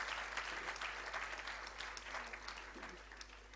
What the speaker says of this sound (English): I think she deserves a big round of applause for this initiative